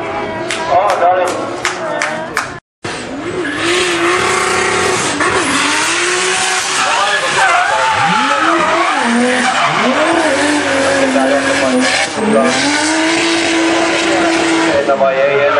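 A drift car at Kemora circuit screams through repeated revs and long tire squeals, the engine pitch swooping up and down under a brief cut, loud and close with continuous skidding.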